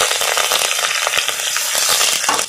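Curry leaves hitting hot oil for a tempering of mustard seeds and cumin, a loud, dense crackling sizzle with sharp spitting pops throughout.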